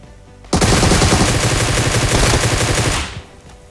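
Sustained automatic gunfire in PUBG Mobile bursts in suddenly and roars loud and close as a rapid, unbroken rattle for about two and a half seconds, then cuts off to quieter background.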